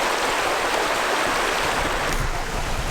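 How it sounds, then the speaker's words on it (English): A small stream serving as the water source at a forest camp, flowing in a loud, steady, close-up rush of trickling water without any talk. "Great little water source."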